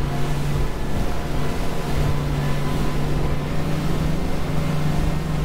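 A D36 Open motorboat throttles up with trim tabs set and swings into a starboard turn, its engine a steady, loud drone with a low hum and constant rushing water and hull noise throughout.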